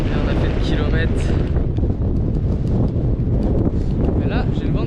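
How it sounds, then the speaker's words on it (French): Strong headwind buffets the microphone in the Sahara with a constant loud rumbling roar, steady throughout with no pauses. "Mais là, j'ai le vent dans la gueule."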